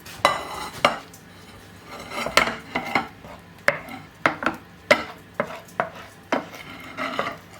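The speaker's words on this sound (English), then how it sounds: "I'm just going to grab a casserole dish" A casserole dish is grabbed in a home kitchen during tuna casserole prep, giving a string of sharp clinks and clatters of dishware knocking together, close and fairly loud, with no talking.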